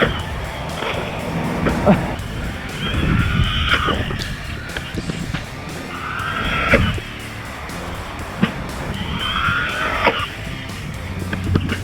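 A carbon fiber RC car runs at full throttle, its whining motor rising and falling in bursts with skidding and clattering impacts, under some background chatter.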